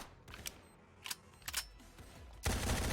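Several sharp AK rifle shots ring out in a competitive video game match, a few spaced bursts before a louder, sustained blast near the end, set against a low game backdrop.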